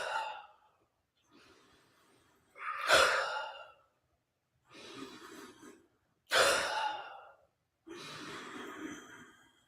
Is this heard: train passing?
no